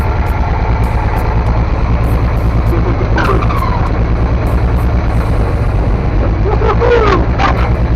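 A vehicle engine rumbles steadily at close range throughout, with a low throbbing drone and a few faint squeaks and clicks on top.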